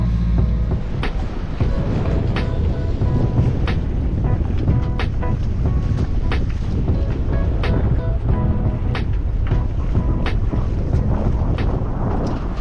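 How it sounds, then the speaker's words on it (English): A sailboat under way in strong wind, around 15 knots, with a constant loud roar of wind buffeting the microphone, rushing water and waves, and periodic knocks and creaks from the boat. "the wind is here and we're sailing"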